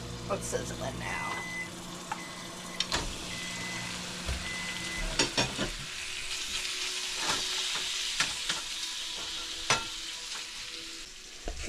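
Colby Jack cheese sizzles in chili and olive oil in a pan, a quiet continuous frying hiss with scattered sharp pops and clicks of stirring utensils.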